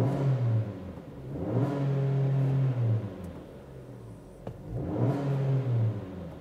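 A 2017 Jeep Compass engine turns over and runs, its mid-pitched drone swelling through several revs toward a limited 4000 rpm and falling back between them, steady and fairly close with no talking.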